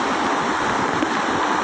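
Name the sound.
sea waves, Manila Bay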